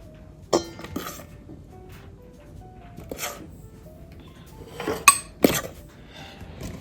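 A simple spoon scoops flour from a container, knocking and clinking several times against the rim in irregular taps, quiet and close, with soft scraping between them.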